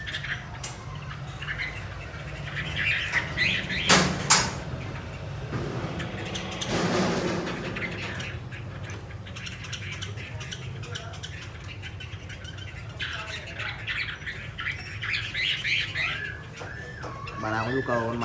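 A female Chinese hwamei songbird calls in short bursts of chirps and whistles, close and moderately loud, with someone talking over parts of it.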